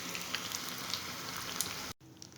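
Coriander leaf chops, fritters, frying in hot oil: a faint, steady hiss of sizzling with scattered tiny pops, broken by a brief cut near the end before resuming.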